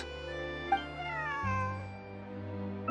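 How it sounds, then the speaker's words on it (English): Cat in the video game Genshin Impact: a meow with a wavering rising-and-falling pitch sounds over steady background music, with no talking. "This is my friend's cat."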